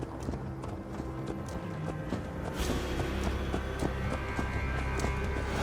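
Horse hooves clip-clop steadily in Assassin's Creed Valhalla, a regular rhythm of close, crisp hoof strikes on a hard surface over continuous ambient game noise.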